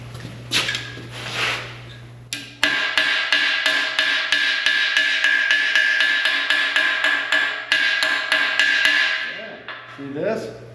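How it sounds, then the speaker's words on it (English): A hammer strikes a metal patch panel on an anvil, shaping it concave for a 1966 Impala SS repair; rapid, steady ringing blows in a long loud run, with a few scattered hits before and after and faint workshop hum. "So I'm just going to go hammer this a bit concave here."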